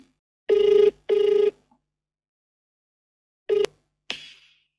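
A telephone ringing as an outgoing call is placed, two long electronic ring bursts, a pause, then a shorter ring and a click-like sound as the line connects, clear and isolated against silence.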